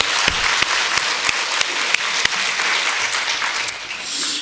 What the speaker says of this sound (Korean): 박수 한번 해드려요.